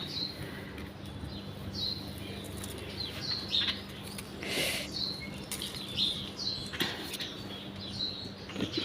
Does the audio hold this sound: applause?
no